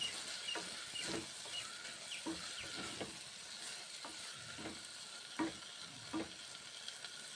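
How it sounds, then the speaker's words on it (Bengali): Onion greens and spices sizzling and frying in a hot wok, with repeated scraping stirs of a spatula at an irregular rhythm over a steady close crackle. "কড়াইয়ে নেড়ে ছেড়ে নিচ্ছি এক মিনিট পেঁয়াজ শাকগুলো আর মশলাগুলো কষে নিচ্ছি"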